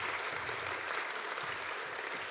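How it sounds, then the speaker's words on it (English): Applause from a luncheon audience for raffle winners at a federal election candidates' debate, a steady, dense wash of clapping from a crowd, even and unbroken throughout. "So all those winners, now you can clap."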